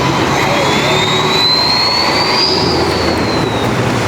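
Ford 6.7L Powerstroke diesel truck fitted with a KC turbo accelerating, a loud continuous engine roar with a rising high-pitched turbo whistle that climbs then fades, steady and close throughout.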